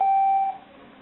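A vintage 1985 Casio MQ-1200 melody alarm clock and calculator gives one clear electronic key beep, a steady tone lasting about half a second, then silence.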